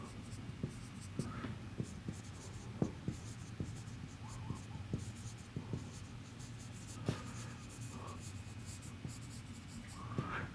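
Writing out an auxiliary equation during a mathematics lecture: a run of faint scratchy strokes and light taps from the writing tool, recorded close against a low room hum, with no speech.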